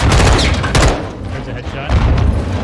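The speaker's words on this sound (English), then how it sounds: "Incoming! Take cover! They're launching grenades!" Grenade blasts and gunfire from the Modern Warfare II campaign, heavy booming bursts with low rumble rolling through a short, loud stretch, with shouting voices mixed in.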